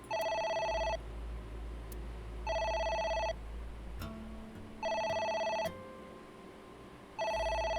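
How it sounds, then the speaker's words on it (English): A telephone rings in the video game AI: The Somnium Files, four evenly spaced bursts of electronic trilling separated by pauses, clear and prominent over a low, steady background hum. "It's the phone. Maybe try picking it up?"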